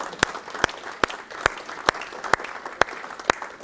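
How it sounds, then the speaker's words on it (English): An audience at a Waukegan morning community business event claps in steady, evenly spaced unison beats, about eight sharp claps over a few seconds, with no talking. "So give yourselves, again, another huge round of applause for making that happen."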